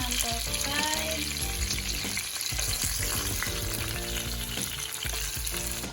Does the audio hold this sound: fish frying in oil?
yes